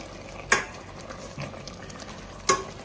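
A spoon stirs sweet potatoes and coconut meat in a pot with a milky liquid, giving two sharp scraping knocks about two seconds apart and a softer bump between them over a low simmering hiss.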